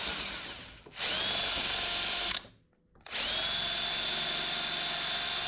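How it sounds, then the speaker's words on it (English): A power drill with a step drill bit boring a hole while a GPR steering stabilizer is fitted on a 2024/25 Kawasaki Ninja ZX6R. There are two loud, steady whining bursts, close by, with a short pause between them. "since I used that step drill bit, it pushed it off center"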